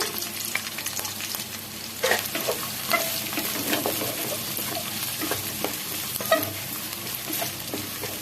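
Onions and slit green chillies frying in hot oil in a pan, a steady close sizzle with occasional stirring clatter and scrapes, no talking.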